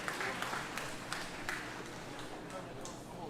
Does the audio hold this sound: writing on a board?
no